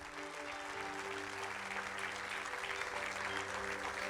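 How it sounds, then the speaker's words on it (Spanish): Congregation at a Spanish-language church service applauding, a soft, distant wash of many hands clapping steadily, with a low sustained musical hum underneath. "Denle un fuerte aplauso a Dios"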